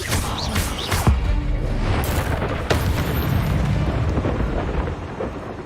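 An ultimate spell attack unleashed in Hogwarts Legacy, a heavy booming blast followed by sustained thunderous rumbling, with sharp cracks punctuating the roar at the start and partway through.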